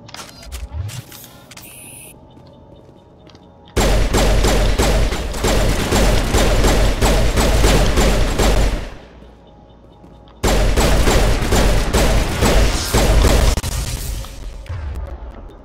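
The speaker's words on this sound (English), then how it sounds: "Let's use the pistol for a second." Rapid pistol shots in the Mass Effect Legendary Edition shooter ring out in two long loud strings of sharp, evenly spaced cracks, with a brief lull between them and quieter game sounds before and after.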